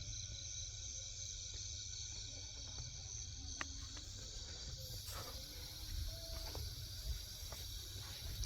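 Night crickets keep up a continuous shrill trill outside a village home, faint and steady over a low rumbling background, with occasional soft clicks and no speech.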